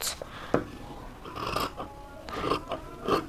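Scissors cutting fabric for a blazer give close, crisp snips and rasping slides in an irregular rhythm, with a few sharper clicks of the blades.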